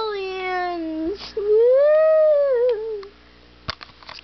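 Dog howling, a rising and falling wail that swells to a loud sustained peak and then trails off, followed by faint knocks.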